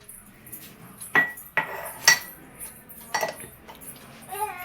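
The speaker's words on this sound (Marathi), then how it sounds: "तेवढी मी भांडी घासून घेते." Dishes, pots and utensils are scrubbed and washed at a home sink, with sharp metallic clanks and clinks every second or so over quiet handling noise, close by and without talk.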